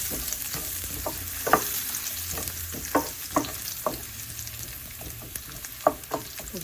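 Carrots sizzling in a pan with cumin and mustard seeds, a steady frying hiss broken by scattered small pops and crackles, heard close with no talk.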